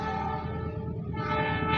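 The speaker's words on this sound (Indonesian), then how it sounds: "juga suara kereta api yang terdengar karena nggak jauh dari sawah" A train rumbles past near rice fields with a steady, heavy drone and a sustained horn-like tone over it, loud and continuous.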